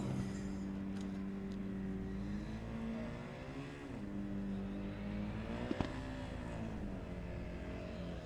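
A Formula Student race car engine labours at low revs just above stalling while crawling through slow corners in an endurance final, a droning harmonic note that sags and wavers with one sharp click, heard at a moderate distance without talk.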